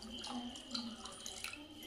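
Water being added to tamarind lentil soup in a kitchen, a faint continuous pouring trickle with small splashes.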